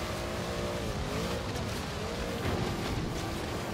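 A jeep engine in the racing game Forza Horizon 3 pulls hard in low gears, roaring loud and continuously with rising and falling revs over a few seconds.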